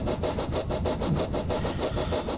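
Train engine running steadily in a train simulator game, a continuous mid-pitched mechanical drone with a regular pulsing rhythm, loud and close with no talk over it.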